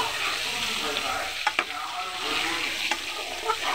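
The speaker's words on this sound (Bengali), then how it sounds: "আমি এখন ডিমগুলো ভেজে নিচ্ছি" Eggs fry in hot oil with salt and turmeric in a wok, giving a steady close sizzle broken by a few sharp clinks and stirring scrapes, with no talk.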